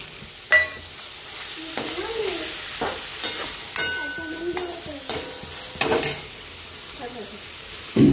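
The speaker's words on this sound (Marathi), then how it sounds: "त्यामध्ये आपण जे बोंबील आहे जे लाल करून घेते बोंबील टाकून घेऊया" Bombay duck fish frying in a pan, a steady close sizzle with repeated scraping stirs and occasional utensil knocks throughout.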